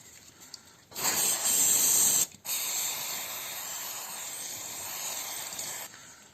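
3-in-One lubricant sprayed from an aerosol can onto a stuck sidecar part: a loud, sustained hiss lasting about five seconds, broken by one brief pause, recorded close with no talking.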